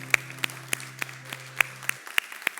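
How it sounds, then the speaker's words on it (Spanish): A congregation in a church gives a short round of scattered, evenly spaced handclaps over a steady low sustained tone that cuts off partway through, with the claps continuing alone afterward. "damos un gran aplauso a nuestro Dios en esta tarde"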